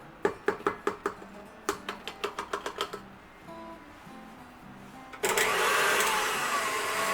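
An electric mixer whips whoopie pie filling of powdered sugar, milk and vanilla: a run of sharp rhythmic knocks gives way to a low motor hum, then a loud, steady whirring at higher speed.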